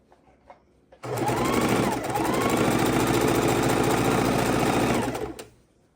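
A sewing machine stitches two fabric scraps together for a quilt, running in one steady, fast, loud burst of about four seconds before stopping.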